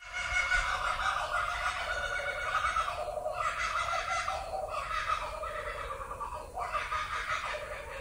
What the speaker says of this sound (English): That, my friends, is a kookaburra.